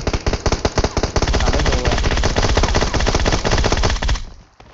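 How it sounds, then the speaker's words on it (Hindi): An M249 machine gun in PUBG Mobile fires a long, rapid, loud burst of close automatic shots lasting about four seconds, then stops abruptly with a brief fading tail. "तू ले M249 चला, फाड़ दे बंदूक।"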